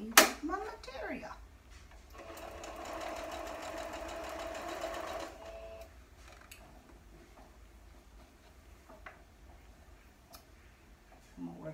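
A sewing machine stitching fabric for a half square triangle quilt block hums for a few seconds in a quiet burst, with a voice talking nearby.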